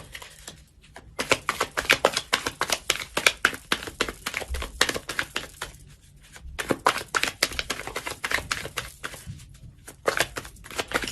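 Tarot cards shuffled and handled in bursts of dense, crisp riffling and flicking, close and fairly loud, with two brief pauses between rounds.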